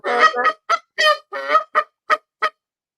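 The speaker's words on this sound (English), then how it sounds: "But that the Canada Goose was there." A Canada goose honks repeatedly outdoors, loud and close, in a quick run of about nine strong nasal calls that taper into evenly spaced single honks.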